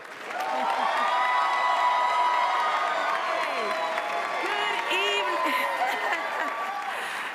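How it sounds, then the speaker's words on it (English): Applause and cheering for Stephanie Hill at the BEYA Black Engineer of the Year awards ceremony, a large crowd clapping steadily with scattered whoops and shouted voices rising above the dense clatter. "Please give a huge round of applause to Stephanie Hill."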